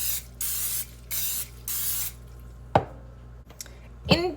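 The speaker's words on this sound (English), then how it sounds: "I always use a little bit of an olive oil spray to grease mine" Olive oil cooking spray hisses onto a donut pan in four short bursts, each about half a second, followed by a few sharp clinks and taps of the pan being handled.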